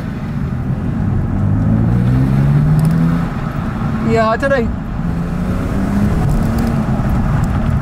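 A BMW 630i E63 with the N52 inline-six and twin exhaust pipes drones from inside the cabin with the windows down while driving, a steady engine rumble rising in pitch, with brief speech over it.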